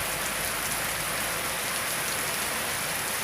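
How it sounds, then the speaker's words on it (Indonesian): Heavy rain pours down during the dry season, a dense, unbroken hiss of drops hitting surfaces close by, steady and loud with no voices. "Alhamdulillah hujan."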